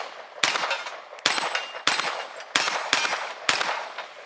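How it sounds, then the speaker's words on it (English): Six sharp, loud gunshots ring out against steel shooting targets during a target-transition drill, evenly spaced about half a second to a second apart, each with a bright metallic ping and short decay, with no talking. "So I'm gonna shoot this one again."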